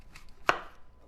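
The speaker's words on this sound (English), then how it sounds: "1 apple, and we're going to do that apple sliced." A knife cuts through an apple once, a single crisp close chop on a board, surrounded by quiet.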